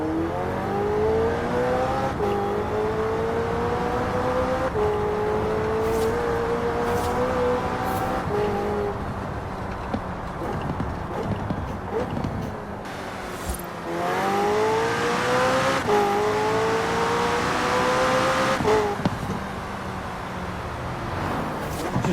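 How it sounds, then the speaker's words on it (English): A McLaren 600LT driven in Forza Horizon 4, its engine revving up through the gears in long rising sweeps, each broken by brief shift pauses, the exhaust and turbo intake loud and close throughout. "Just that exhaust. I know people slack McLarens for the exhaust and how it sounds like a Hoover, but you can hear the turbo sucking the air in"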